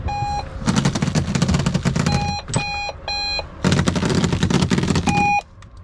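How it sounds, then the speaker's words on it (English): An electronic alarm sounds from inside a parked van, repeating steady high beeps in bursts with short gaps, loud and close over a rumbling background noise. "Alarm's going off."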